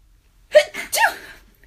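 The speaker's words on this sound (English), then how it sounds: "I'm about to sneeze." A single sharp sneeze bursts out close by, a quick intake followed by the forceful explosive release, then quiet.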